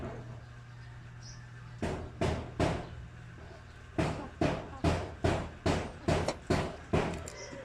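Repeated hammer blows at a steady rhythm from a neighbor, a few strikes then a longer run of about eight sharp bangs, fairly close, in a rural province.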